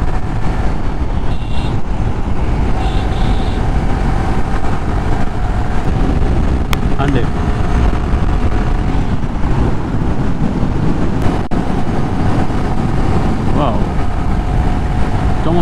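Steady broadband rumble of a motorbike riding along a highway toward Feni on a Bangladesh road tour, with constant wind buffeting and road noise running continuously, close and loud throughout.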